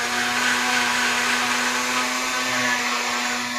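A kitchen blender whips eggs for an omelet on its highest setting, giving a steady, loud motor whine with a strong hum that holds evenly throughout, with no talking.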